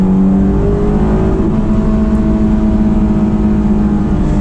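A Honda S2000 sports car engine hums steadily at moderate load, with shifting engine tones and some road rumble throughout, no talking.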